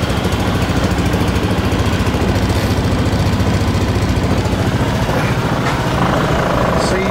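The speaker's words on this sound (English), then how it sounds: "that's a cold start on my 2004 Honda Reflex" A 2004 Honda Reflex scooter idles after a cold start on a frosty day, its small single-cylinder engine putting out a steady, close, rapid putter with a constant low throb and no talk.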